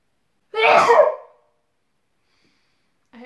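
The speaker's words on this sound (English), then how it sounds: "I need to sneeze." A single loud, close sneeze bursts out and fades within about a second, followed by silence.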